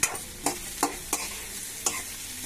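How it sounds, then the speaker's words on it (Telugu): Bitter gourd pieces frying in a pan for a bitter gourd and potato curry, with five sharp, evenly spaced scraping stirs over a soft continuous sizzle, close by and without talking. "కాకరకాయలు వేసేసాము, వేపుదాం ఇవన్నీ."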